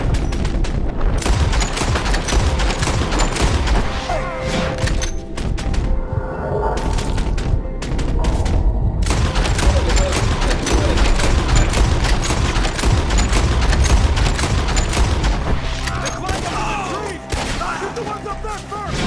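Dense gunfire from a Red Dead Redemption 2 shootout, rapid overlapping shots and cracks nearly continuous for the whole stretch, loud and close, with players shouting over it.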